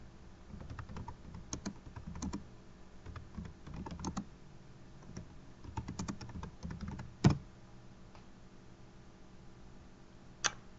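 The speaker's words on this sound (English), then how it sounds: "So we type in our movie, we find it here, we click on the link" Quiet clicking of a computer keyboard in irregular bursts of keystrokes, close but soft, with one sharper knock partway through and a lone click near the end.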